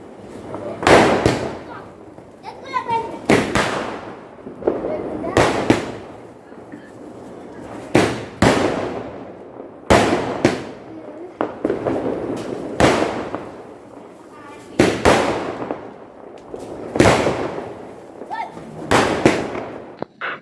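Diwali firecrackers and fireworks set off by a boy at a new home, loud sharp bangs going off repeatedly in clusters across the whole stretch, with a voice talking faintly between the blasts.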